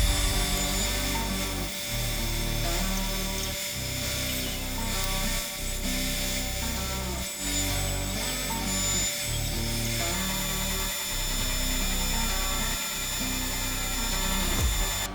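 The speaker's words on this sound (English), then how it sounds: "I'm gonna use my bandsaw here" A bandsaw roughing out wood pieces for a garden caddy toolbox, its motor whining steadily and loudly while the blade cuts, with a brief dip in the drone roughly every two seconds.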